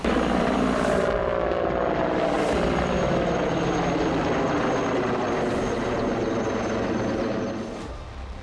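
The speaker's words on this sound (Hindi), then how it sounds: "शत्रु संहारक लड़ाकू विमान MI-17।" A Mi-17 military helicopter flies past with a loud, continuous rotor thump and engine roar that holds steady before easing slightly at the end.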